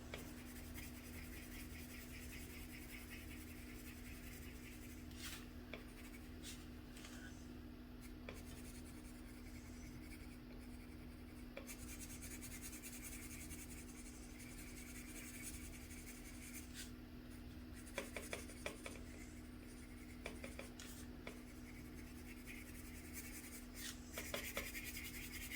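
Colored pencil shading on paper with steady pressure, a continuous soft scratchy rasp of repeated strokes going over the same area, close and quiet with a few slightly louder strokes near the end.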